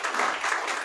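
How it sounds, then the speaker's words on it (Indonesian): Church congregation clapping for themselves during a sermon, a brief dense burst of applause filling the room at steady loudness. "Bagi tepuk tangan untuk diri sendiri lah"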